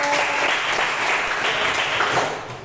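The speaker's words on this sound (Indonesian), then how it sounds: "Ya, tepuk tangan" A classroom of students claps together in a loud, dense burst that holds steady for a couple of seconds and then begins to fade.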